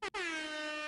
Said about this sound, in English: Every one new subscriber is going to get an air horn.